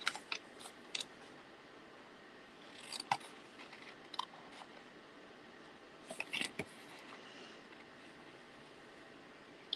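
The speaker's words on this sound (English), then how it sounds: "move the paper, not the scissors" Sharp, crisp snips of scissors cutting paper in short bursts with pauses between, close and quiet.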